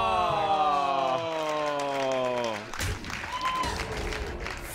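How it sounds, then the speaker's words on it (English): A live audience at a Hearthstone tournament semifinal (ONOG Summer Circuit 2015) bursts into applause after a ringing, descending tonal game effect, and the clapping continues as a busy, crowded wash. "Really clapping for that Huffer."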